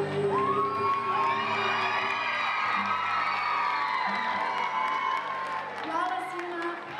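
A live audience at a Čapljina singing talent show gives singer Marko Bošnjak an ovation, with sustained loud cheering, whoops and shouts from a large crowd and clapping blended beneath, holding strong throughout with a slight dip near the end.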